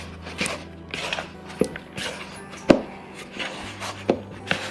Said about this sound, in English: Now I'm going to mix it all up until it's one big ball.